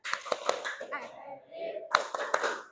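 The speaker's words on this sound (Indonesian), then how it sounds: "Tepuk semangat." A group of Indonesian schoolchildren performs a rhythmic spirit clap, with sharp hand claps in patterned bursts and a pause in the middle, mixed with young voices.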